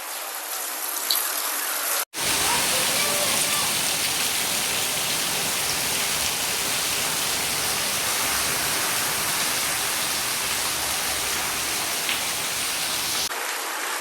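Heavy rain pours down steadily, a dense, even hiss of drops lasting the whole stretch with no voices, cutting out briefly near the start.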